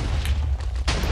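A cannon fires during a Minecraft PvP match on the Overcast Network: a brief, muffled boom bursts out near the end of a moment of low game rumble.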